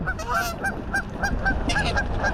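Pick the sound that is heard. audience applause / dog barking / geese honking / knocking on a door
geese honking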